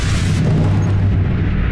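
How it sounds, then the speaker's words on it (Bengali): A flash grenade goes off in a cartoon, a loud, rumbling blast with a broad, roaring wash that holds steady for a moment before easing off. "ব্ল্যাক অপস একটা ফ্ল্যাশ গ্রেনেড ফেলেছিল"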